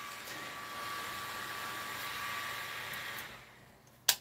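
A small fan blowing cool air to dry paint on miniature figures gives a steady close-up whir that winds down near the end, followed by a sharp click.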